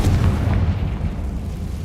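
Confringo, an explosive blasting spell in Hogwarts Legacy, bursts as a heavy, loud boom that rolls into a sustained low rumble and fades slowly.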